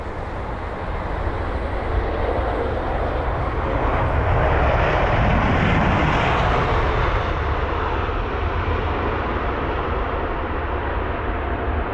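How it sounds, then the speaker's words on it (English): An Airbus A380 lands at London Heathrow, its engines a broad, steady roar that swells to a peak midway and then slowly fades, heard from a distance. "what a landing there from that Airbus A380 aircraft"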